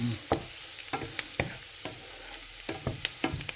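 Garlic and onion frying in a pan, a steady soft sizzle broken by sharp scraping stirs at irregular intervals, close and fairly quiet, with no voices.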